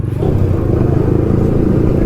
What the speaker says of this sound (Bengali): ভাই বেনেলি 600i ভাই 600 সিসি, ভাই ডুয়েল সাইলেন্সার